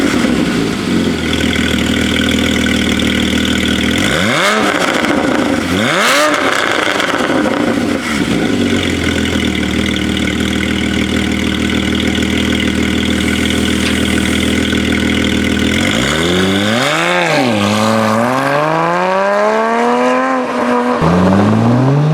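A 2016 Porsche Boxster Spyder's engine idles with a deep steady burble, broken by two quick sharp revs early on and a longer series of rising and falling revs later, loud and close throughout.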